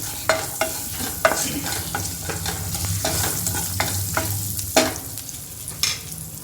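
Big-cut onions frying in oil for restaurant-style sambar, a steady sizzle broken by frequent spatula scrapes and knocks against the pan, close and moderately loud.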